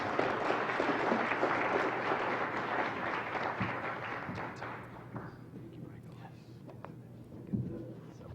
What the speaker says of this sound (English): give a warm round of applause and a warm Cleveland welcome to Tom Shapiro